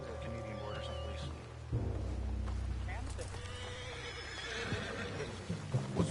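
A horse in the video game Red Dead Redemption 2 whinnies and snorts, with hooves clopping, while a voice murmurs faintly in the background.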